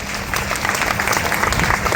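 A hall audience gives loud, dense applause for Sudhir sir at a DXN health meeting, with many hands clapping together in a steady, sustained wash.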